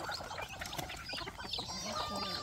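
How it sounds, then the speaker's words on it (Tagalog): Chickens, chicks and turkeys on a farm clucking and cheeping in a steady, busy chorus, several birds calling at once at moderate distance with no talk over them. "ang ating mga alagang manok, mga sisiw, pabo"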